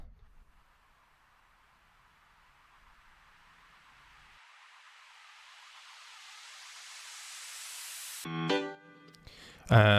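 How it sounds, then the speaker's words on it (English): A generic white-noise riser from a music production swells gradually over about eight seconds, brightening as it climbs. It cuts off into a brief burst of other sounds from the track. "We've got some rises, which are just some generic kind of white noise"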